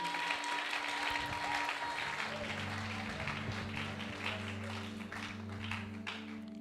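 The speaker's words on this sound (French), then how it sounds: "Est-ce que tu peux acclamer pour toi là où tu es?" Church congregation at a service applauding: sustained dense clapping from a crowd in a large room, with a steady musical drone underneath and voices mixed in.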